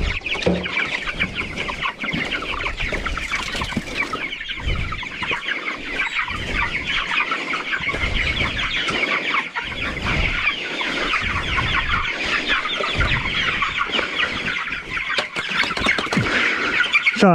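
A thousand broiler chickens moved into a tunnel house cluck and chirp continuously, a dense close flock chorus with no talk.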